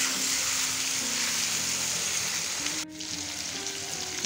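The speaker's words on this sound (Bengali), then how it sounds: "এরপর ওই তেলের মধ্যে কচুর টুকরোগুলো দিয়ে ভালো মতো ভেজে নিচ্ছি।" Taro pieces fry in hot oil, a dense, bright sizzle that runs continuously and close, dipping briefly near the end before resuming, with no one speaking.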